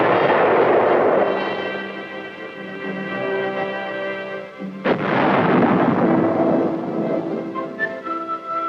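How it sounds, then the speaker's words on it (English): A tank gun fires during artillery testing at Aberdeen in 1969, making two heavy, booming muzzle blasts several seconds apart, each followed by a long, rumbling decay with no talking. "muzzle blast is a potential source of damage and a hazard to the crew"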